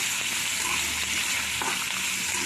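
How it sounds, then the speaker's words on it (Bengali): Diced potatoes frying in hot oil with asafoetida sizzle loudly and continuously while a spoon stirs them, with faint scraping and clinks in the pan. "এবার আলুটাকে একটু নাড়াচাড়া করব।"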